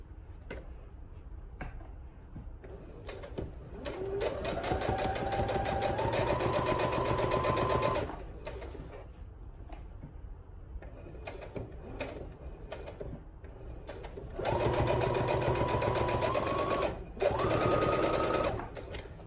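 A sewing machine stitches along the handle of a fabric market bag in two steady runs of several seconds each, with a quiet pause between them. The whirring rises slightly in pitch as it speeds up.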